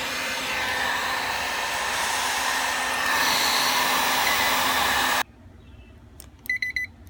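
An HPI 4.6 nitro RC engine, freshly fueled and preheated during break-in, runs loud and steady with a high whining buzz for about five seconds, then cuts off abruptly, leaving a quiet room with a few short electronic beeps.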